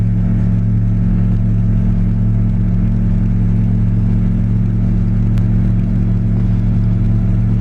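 Inside a Slipstream Genesis light aircraft in flight, the engine drones loud and steady with strong low harmonic tones, a constant cockpit hum with no talk.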